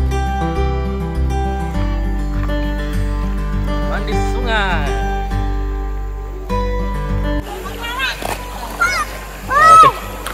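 Family members bathe in a fast-flowing, rocky river at a forest campsite in Tanjung Malim, splashing water while children talk and shout nearby, with steady music in the background before the splashing grows busier.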